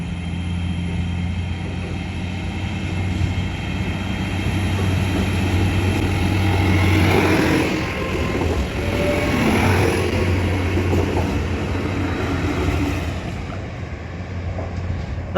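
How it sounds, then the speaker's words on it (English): A train rumbles past near the Kennet & Avon Canal railway, a steady low drone that swells in the middle and fades, heard outdoors at moderate distance, continuous and fairly loud. "That is actually going to be my train."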